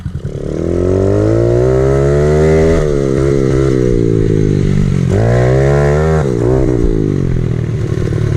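Honda 50 motorcycle fitted with an 88cc big bore kit, ridden close by with a loud, steady engine note that rises and falls through several throttle changes and gear shifts, running continuously.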